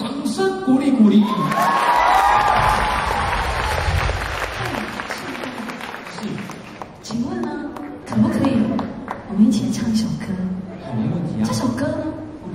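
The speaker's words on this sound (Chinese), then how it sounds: "掌声鼓励鼓励" A live audience applauds and cheers at a Chinese-language stage show, a sustained wash of clapping with some shouts and laughter, and the speech of hosts runs through it before the clapping tapers off.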